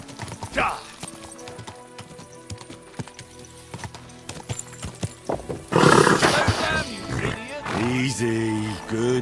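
Horse hooves clip-clop steadily in the video game Kingdom Come: Deliverance II, with a horse snorting and whinnying loudly partway through, amid game-style sound effects.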